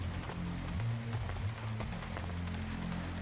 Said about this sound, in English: Is it still raining inside?